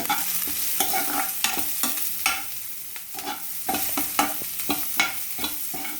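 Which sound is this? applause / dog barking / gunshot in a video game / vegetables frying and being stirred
vegetables frying and being stirred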